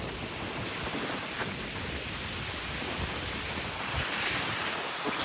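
Sea waves surge and crash steadily on a beach in Pondicherry, a continuous broadband roar with wind buffeting the microphone throughout.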